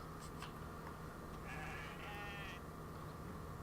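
A goat in the video game Kenshi lets out one drawn-out, quavering bleat midway through a fight, over a constant low hum of in-game ambience.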